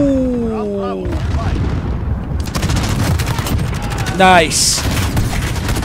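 An RPG-7 rocket explosion in a shooter game, heavy booming blasts amid a chaotic scatter of gunfire, with a sharp loud burst midway and a brief spoken word over the din.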